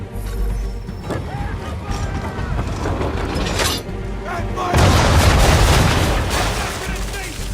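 Ship cannons boom in Assassin's Creed 3 naval combat, heavy repeated blasts with mechanical rattling and clanking between them, rising into a louder, dense barrage near the end, with voices talking over parts of it.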